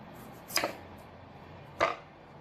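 Knife cutting through a bottle gourd on a board in a home kitchen, two separate firm chops spaced a little over a second apart, close and fairly clear against a quiet background.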